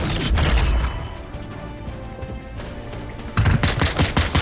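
Gunfire from Call of Duty: Modern Warfare 2, with a loud burst of rapid shots at the start, a quieter stretch of distant firing and mechanical clatter, then another dense volley of close shots near the end.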